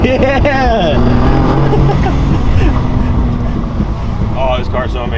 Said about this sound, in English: Burn out off the two-step.